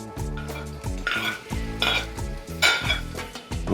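Cooked rice stir-fried with egg in a pan, with rapid, continuous scraping and clanking of a spatula against the metal in a busy rhythm, loud and close, over a soft sizzle.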